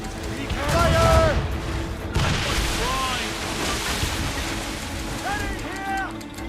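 Naval cannon fire during a ship battle in Assassin's Creed Rogue: heavy broadband booms over sea and wind ambience, with shouted crew voices and brief whistling sounds at intervals.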